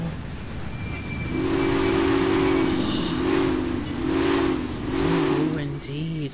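A train rumbles steadily along the track in the Railway Empire video game while its horn sounds in a series of long, repeated blasts, loud and close, with a lower tone near the end.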